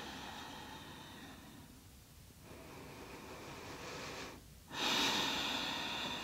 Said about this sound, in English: breathe into that space